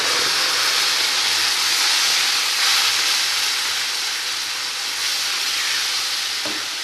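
A pan of quail egg roast with ground cashew paste simmers and sizzles in a steady, close hiss that swells slightly midway, with no voices.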